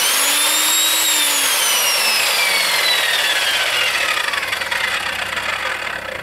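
An Evolution Rage 5-S table saw whines loudly at full speed, then its blade pitch slides steadily downward as it spins down after being stopped, with no talk over it.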